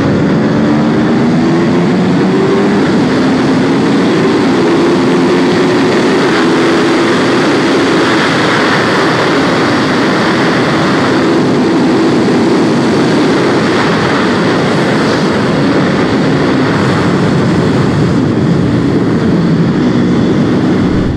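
A 2021 Aprilia RSV4 Factory superbike runs hard around the Misano circuit, its engine a loud, constant roar with rising and falling pitch and heavy wind rush, with no pauses.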